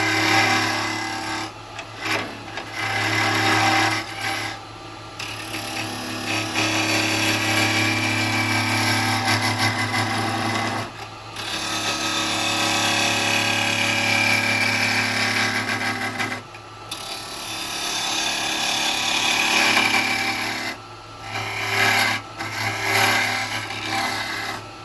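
Gouge cutting a wooden ring holder spinning on a woodturning lathe, bevel riding the wood as the tool is pulled forward: a steady close whirring hum with rasping cuts, broken by a few short pauses.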